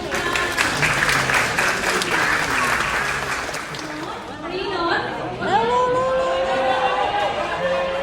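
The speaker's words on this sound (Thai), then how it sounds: "ขอเสียงปรบมือทุกคนอีกรอบ" An audience applauds after a children's piano recital, loud dense clapping that fades midway as nearby chatter and voices take over, with people talking close by under the thinning claps.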